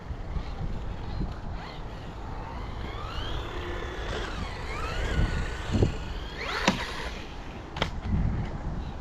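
A DEERC H16E RC boat's small electric motor runs at full throttle out on the water, a steady whining drone with rising and falling pitch sweeps over wind and lapping water, a few sharper bursts as it turns.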